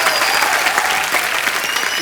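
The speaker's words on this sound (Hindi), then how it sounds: "आप एक बार जोरदार तालियां" Studio audience applause on a Hindi TV comedy talk show, a dense, loud, continuous burst of clapping from a large crowd, sustained evenly throughout with some voices faintly mixed underneath.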